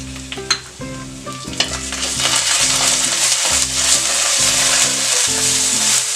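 Ginger garlic paste frying with chicken for a Malvani chicken curry, a loud, steady sizzle that swells after the first seconds and continues throughout, with a low melodic background underneath.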